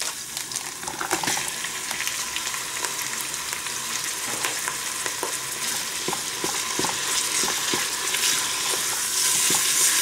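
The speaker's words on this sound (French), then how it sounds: "Je vais ajouter la viande hachée." Ground meat sizzles in a pan with softened onions, a steady close frying hiss broken by scraping stirs and spatula clicks throughout.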